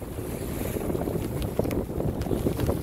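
Wind buffets a sailboat under its dodger in Johnstone Strait, with steady rushing air, water noise and microphone wind rumble throughout, loud and close, with no talk.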